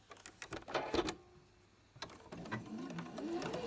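Sewing machine stitching a patchwork star block for a table runner: faint, quick mechanical chattering in two runs separated by a short pause, close by, with no voice.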